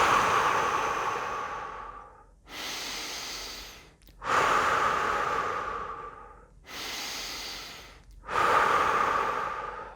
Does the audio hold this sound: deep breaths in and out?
yes